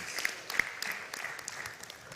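An audience claps for TikTokers at a live jazz event at Jajja Ranch, producing steady scattered applause with sharp individual claps, moderately loud and with no one speaking over it.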